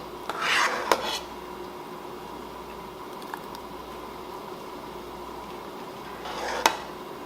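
Cherry butter spooned into two glass half-pint canning jars in a home kitchen, giving two sharp clinks of glass and utensil with soft scraping between them over a steady quiet background hum.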